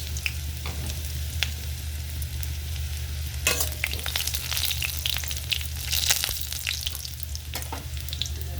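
Onion and black cumin frying in mustard oil for bitter gourd curry, a continuous crackling sizzle with intermittent spatula scrapes and stirring knocks, close and steady.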